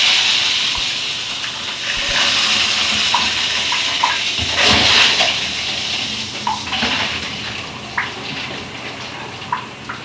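Water gushing and hissing steadily into a newly installed water softener system through its bypass valve, a continuous broadband rush with a few small clicks and knocks, fairly close.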